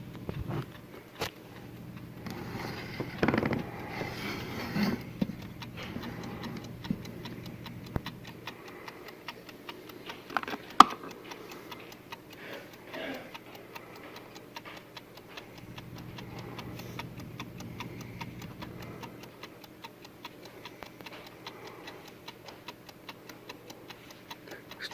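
A clock running on power from a DC converter ticks steadily and faintly through the whole stretch, each tick a small regular click against a quiet low hum and some handling noise.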